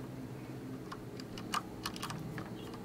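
Computer keyboard keys clatter in sparse, irregular taps and short bursts, fairly faint over a steady background hum.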